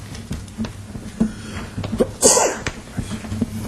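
A single sharp sneeze bursts out midway over a faint planning commission meeting room background with scattered small clicks and shuffles.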